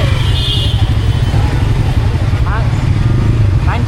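A motorcycle engine drones steadily on a ride through city streets, with constant low rumble and wind noise throughout and a brief chirp of distant traffic near the end.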